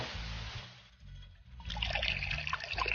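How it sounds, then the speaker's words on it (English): Hot water poured into two glasses, a steady liquid trickle and splash that thins briefly in the middle, then returns fuller and brighter, close and alone with no talk. "Fill 2 glasses with hot water"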